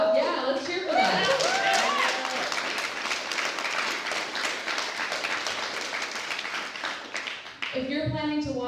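A crowd of activists gathered for a protest march claps loudly and steadily, the applause swelling early and slowly fading, with a person speaking at the start and again at the end.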